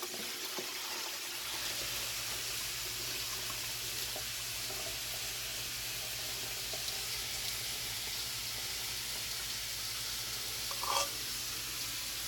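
Water drains out of a pot after steaming, a steady hissing, sizzling rush at close range with a short louder splash near the end, and no voices.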